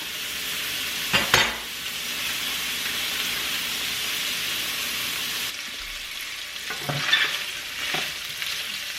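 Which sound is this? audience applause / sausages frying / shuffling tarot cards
sausages frying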